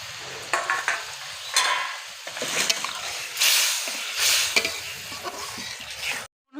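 Egg cake slipped into simmering curry gravy in a pan, with a soft, uneven sizzle and bubbling stir sounds that rise and fall in bursts, heard up close with no talking.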